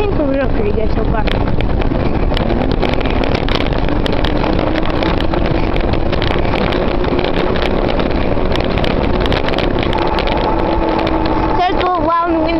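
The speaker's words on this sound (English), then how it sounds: "So it's a little loud and windy." Steady wind rushes and buffets the microphone while riding a bicycle, with a low rumble underneath and a voice talking over it.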